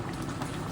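Monsoon rain falls steadily in a village setting while country chicken cooks, a dense, even patter of drops filling a short stretch at moderate level with no voices.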